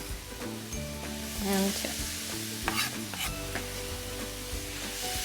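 Mushrooms sizzle loudly in a hot pan while being stirred and pushed around, with scrapes and clatter over a constant frying hiss and someone briefly speaking.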